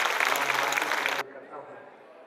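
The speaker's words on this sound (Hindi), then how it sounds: "जोरदार तालियों से आप उनका स्वागत करिए।" An audience at a Hindi poetry gathering applauds a poet with loud, dense clapping that cuts off abruptly, leaving quieter room sound and faint murmurs.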